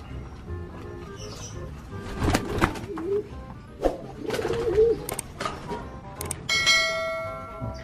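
Several kupu-kupu and common pigeons coo in soft, warbling phrases close by, with bell-like tones ringing out and some clattering in the background.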